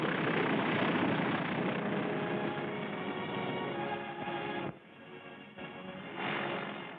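A World War II-era propeller plane lands on a freshly built Tarawa airstrip, its engine droning loudly and steadily, then dropping away and surging again briefly as it rolls in.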